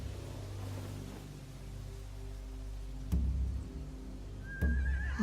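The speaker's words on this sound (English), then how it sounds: "They have horses." A horse whinnies near the end against a low, steady rumble, with a couple of sharp thuds shortly before, in The Walking Dead: The Final Season video game.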